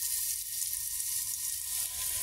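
Potatoes fry in a pan with a constant, even hiss of hot oil close by, a steady sizzle with no pauses and no talking.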